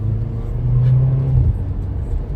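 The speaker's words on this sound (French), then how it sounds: "je kiffe juste le bruit de tes pots d'échappement quand tu passes les vitesses" A Renault Clio 4 RS Trophy 220hp engine drones low and steady, its exhaust note swelling and dropping briefly as it shifts gears, with no voices.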